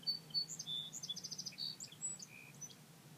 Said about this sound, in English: little birds tweeting